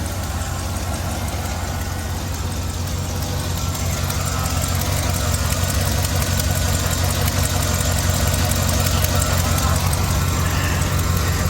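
A GMC Denali's 6.2-liter engine runs roughly at idle, a steady, loud low rumble with an uneven, knocking undertone, continuous and close, with people talking over it.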